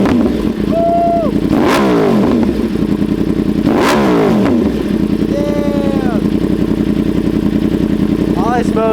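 A 2025 Yamaha R1 sport bike with an SC Project CR-T exhaust idles loudly and close, then revs sharply twice and settles back to a rumbling idle, with voices briefly heard over it.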